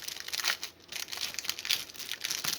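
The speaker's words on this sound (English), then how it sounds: "If I can get it out of the nice little plastic bag." A wooden laser-cut thread holder being pulled out of a plastic bag, close crinkling and rustling of the plastic in irregular bursts with a brief pause, nearby and fairly quiet.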